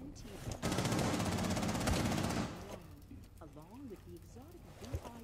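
Rapid machine gun fire in Rainbow Six Siege rattles loudly for about two seconds, then gives way to quieter game sounds as a voice speaks over the action.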